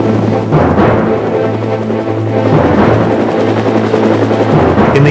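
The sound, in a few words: Sikorsky S-65 helicopter rotors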